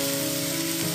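Previously fried kunji pieces are stirred into a sizzling pan mixture, giving a close, steady frying hiss throughout.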